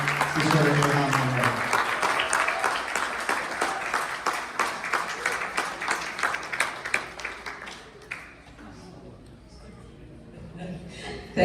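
An audience at a Dallas gala Iftar dinner applauds to welcome Congresswoman Ilhan Omar, loud crowded clapping with a few cheers that thins into scattered claps and fades out after about eight seconds.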